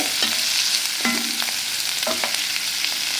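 Small onions frying in hot oil for a chickpea gravy, a continuous close sizzle with a few scraping stirs of a spoon in the pan, no voices.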